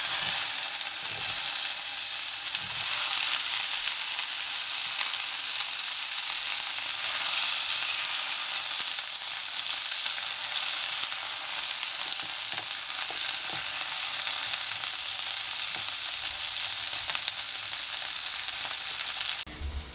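Bell peppers hit hot oil spiced with cumin in a pan for a Bengali-style paneer dish, giving a loud, constant crackling sizzle that runs throughout with occasional stirring scrapes.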